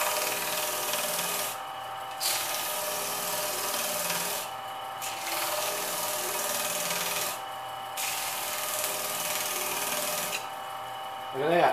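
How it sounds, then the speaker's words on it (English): A homemade sanding drum grinds against metal in a continuous, loud, abrasive whir, with brief dips in tone every few seconds as the workpiece is lifted and pressed back against it. "That's a 3 grit sanding drum."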